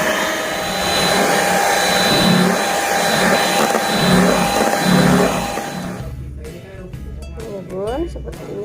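Electric hand mixer whipping eggs for a baked sponge cake batter, a loud continuous whir with slight pitch wobble that cuts off partway, followed by someone speaking.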